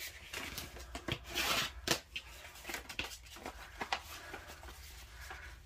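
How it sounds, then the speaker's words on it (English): Scissors snip through folded paper along a crease while making a belly band envelope. Short, crisp rustling cuts come in quick uneven bursts, close up and without any voices. "But we're going to cut it on that line."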